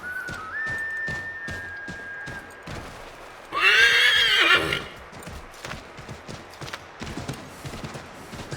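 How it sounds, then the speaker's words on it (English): A horse in Assassin's Creed 3 Remastered gives one loud whinny midway, with hooves clip-clopping in a steady rhythm before and after it and a thin whistle-like tone at the start. "Come on, Horsey, let's go"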